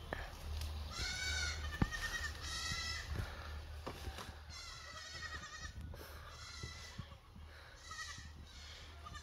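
Several goats bleat repeatedly in a quiet outdoor setting, overlapping calls of varying pitch over soft background noise.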